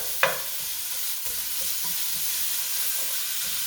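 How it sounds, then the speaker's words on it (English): Ground beef browns in a pan in its own fat, giving a steady close sizzle and frying hiss, with a sharp scrape near the start and soft stirring scrapes throughout, and no talking. "I'm hoping that the oil from the beef will be sufficient to help brown this up"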